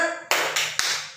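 Three sharp claps ring out in a quick rhythm during a classroom tepuk semangat cheer, each one close and crisp, with no voices over them.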